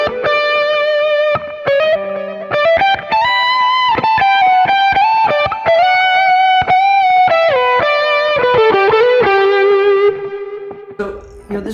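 An electric guitar plays a sustained, singing lead line through a Marshall Guv'nor distortion pedal with a compressor in front, giving it a full, compressed tone with smooth slides and held notes at a steady loud level, with no talking.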